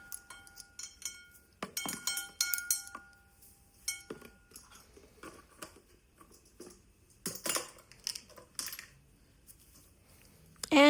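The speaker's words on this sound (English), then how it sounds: "And stir it up." Macaroni salad is stirred in a bowl with a utensil, giving quiet, irregular clinks and scrapes in short bursts separated by near silence.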